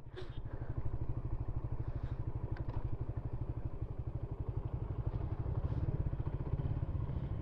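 A motorcycle rides over rough ground near Kuakata, its engine chugging in a steady, fast, close pulse throughout, with a few faint knocks and rattles.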